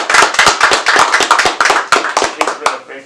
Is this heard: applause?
yes